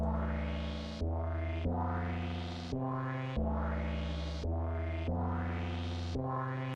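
A synth chord preset made in Serum plays a series of about six sustained chord stabs in a steady rhythm. Each rich, bright chord decays slightly before the next begins, clean and alone.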